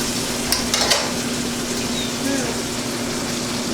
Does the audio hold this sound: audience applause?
no